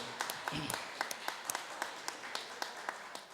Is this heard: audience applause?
yes